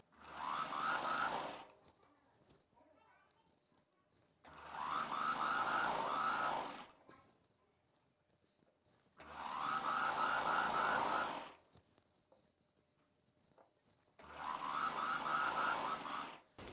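An electric sewing machine stitches cloth for a boat-neck dress in four separate bursts of about two seconds each, with a rapid whirring hum and short quiet pauses between runs.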